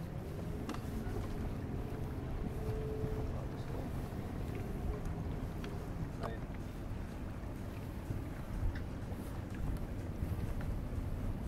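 Boat motoring through river current: a steady low engine drone with wind buffeting the microphone and water wash, continuous and fairly close throughout, with no talk.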